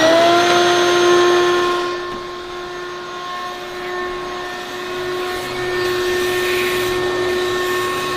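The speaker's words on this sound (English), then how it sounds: "so we're going to vacuum it out" A vacuum cleaner sucks debris out of a car engine bay, its loud, steady motor whine holding a clear tonal pitch that dips slightly as the nozzle shifts, then rises again; no talking.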